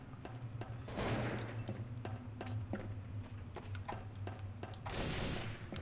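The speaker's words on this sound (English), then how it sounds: "Who is shooting?" Gunfire in the online shooter game Trouble in Terrorist Town: a rapid series of sharp shots and short bursts over a steady low background hum, fairly loud, without speech.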